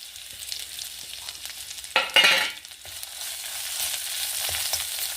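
Mustard seeds, dal, chili and curry leaves fry in hot oil for a pumpkin peel chutney, a soft close hiss that flares into a sharp, loud burst of sizzling before settling back.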